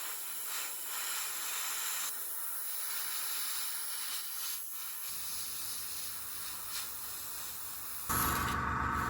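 Steady hiss of an aerosol spraying grey paint onto a 1/200 scale IJN Mikasa model boat deck, running for several seconds, close by, with a brief louder burst near the end.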